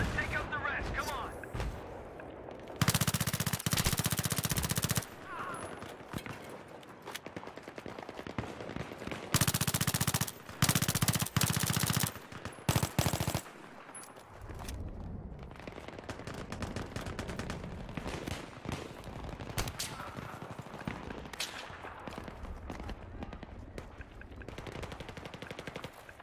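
Machine gun fire in the video game Battlefield 3 on PS3, loud rapid bursts and sustained volleys up close, with gunshots and explosions scattered across a long stretch of combat.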